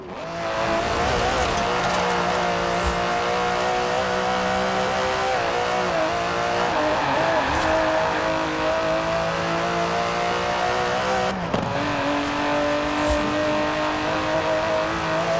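An Aston Martin DB11 with a 5.2-litre twin-turbo V12 in the Forza Horizon 4 racing game, its engine droning and revving through gear changes with shifting tones and brief tire noise, loud and continuous throughout.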